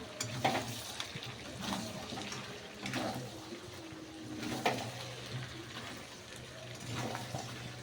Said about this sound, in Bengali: ভেজে রাখা আলুগুলোকে একটু মাংসের সাথে কষিয়ে নিলাম